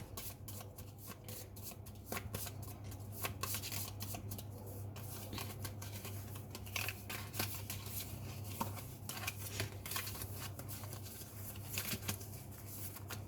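Tarot cards are shuffled by hand in a soft, continuous riffling patter, quiet and close, with a steady low hum underneath and no voices.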